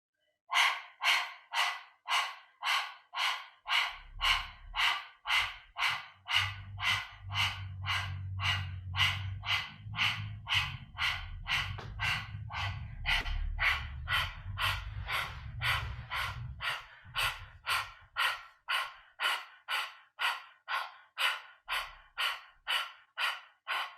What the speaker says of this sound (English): Let's start with the panting like a dog breath.